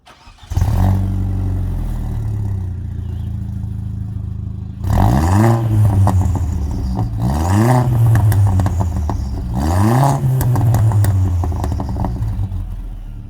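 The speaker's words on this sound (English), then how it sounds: "let me give you a warm start because I just got home, and some warm revs" A 2004 Audi A4 1.8T Quattro with its muffler deleted cranks and warm-starts, settles into a rough idle, then is revved three times to 3,000–4,000 rpm, each rev climbing and falling back, loud and close.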